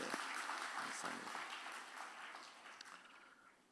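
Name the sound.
congregation applause for missionaries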